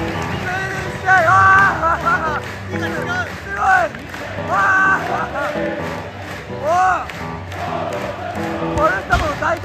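A large stadium crowd at a Crystal Palace versus Manchester United football match in London chants and cheers in rising, rhythmic waves, with clapping and loud voices filling the space throughout.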